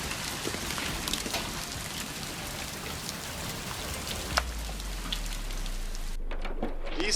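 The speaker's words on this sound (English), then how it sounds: "This is hail. Lots and lots of hail." Heavy hail falls hard and steadily, with a dense patter of hailstones striking surfaces, sharp louder impacts popping out now and then, and a low rumble joining near the end.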